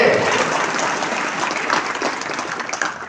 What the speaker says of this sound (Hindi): त्यांच्यासाठी अजून जोरदार टाळ्या वाजवा.